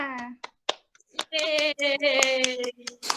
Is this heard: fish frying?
no